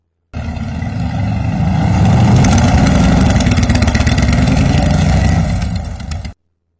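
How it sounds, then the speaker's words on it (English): A motorcycle engine starts and runs at a steady, loud idle for about six seconds before cutting off abruptly, with no voices. "she sat behind Randy on his motorcycle and held on tight to him as they got started"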